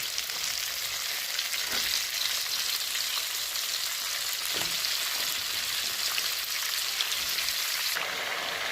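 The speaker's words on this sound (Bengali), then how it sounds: "পটলটা লাল লাল করে ভাজা হয়ে গেছে এবার দিয়ে দেবো বাকি সবজিগুলো" Pointed gourd and other vegetables frying in a pan for a mixed vegetable curry, a loud, steady hiss of hot oil, rain-like and close, with a couple of faint stirring knocks.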